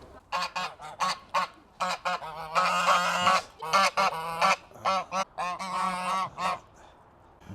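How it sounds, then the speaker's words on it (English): Geese at an urban farm honking loudly in repeated bursts, a rapid series of close, harsh calls in overlapping clusters with brief pauses between. "Very loud geese."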